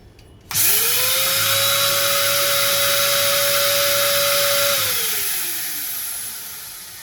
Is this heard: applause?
no